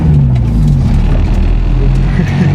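A 2003 Honda S2000 accelerating hard, its engine a loud, steady drone with a rising pitch through a continuous pull, heard from inside the car.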